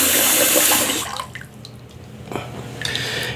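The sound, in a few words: sink filling with hot water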